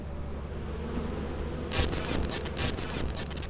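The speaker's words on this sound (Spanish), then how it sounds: "Las abejas de mierda" Bees in the video game Lethal Company buzz over a low steady background hum, the insect drone starting partway through and pulsing in short bursts, fairly faint.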